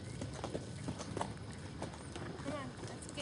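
Horse hooves clip-clop in a steady rhythm during a riding lesson, close and fairly loud, with an instructor's voice talking over them and a brief whinny-like sound near the end.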